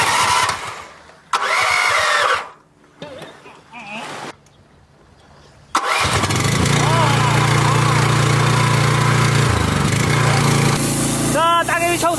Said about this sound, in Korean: 어마어마한 지금 고압 세척기의 위력이 지금 발생하고 있습니다